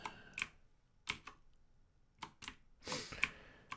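Keys tapped on a computer keyboard while steering characters in a typing game: sparse, quiet, close clicks in small clusters separated by pauses, with no talk.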